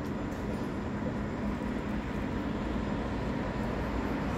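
A tram rolling along a city street in Wrocław, Poland, a steady low rumble and wheel noise that stays even and fairly close throughout, with no voices over it.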